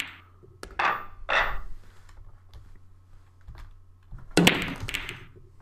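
Pool balls in the Virtual Pool 4 video game: a cue strike and clacks of balls colliding, then a rumbling roll, and later another cluster of hits and a ball dropping into a pocket, fairly close with quiet gaps between.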